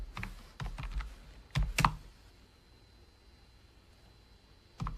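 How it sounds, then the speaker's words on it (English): Fingers typing out an equation on a computer keyboard: a few quick, quiet bursts of key clicks close by, a long lull, then one last short tap sequence. "I will type solve equation"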